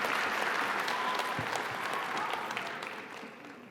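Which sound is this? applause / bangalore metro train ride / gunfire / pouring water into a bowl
applause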